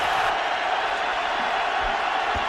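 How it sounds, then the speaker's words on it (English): Football stadium crowd at a 2007 Eagles at Packers game, a broad steady roar of cheering filling the whole span, loud and continuous with distant swells. "They're getting this crowd back into it."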